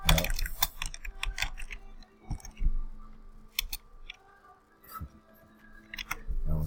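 Keys tapped on a computer keyboard in irregular bursts of clicks, close and fairly quiet, with short pauses between runs and faint mechanical rattles; no one talks.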